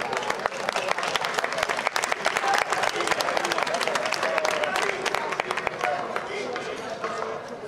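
Crowd applause at a Roman-era historical reenactment in Villena, Spain, with dense, sharp claps of fairly even loudness throughout and some mixed voices beneath.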